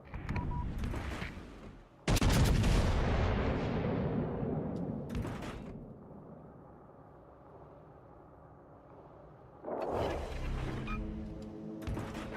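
Airstrike explosions in the World of Warships: Legends naval game land as a sharp blast followed by a long rolling rumble that fades, then another heavy burst near the end, with no talking over them.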